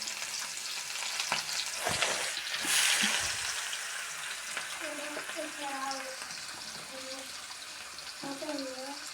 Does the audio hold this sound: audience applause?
no